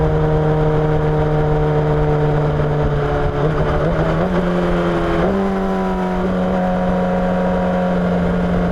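Honda CBR1000RR SP1 sportbike engine drones loud and steady at close range, its pitch stepping upward as it accelerates, with no talking.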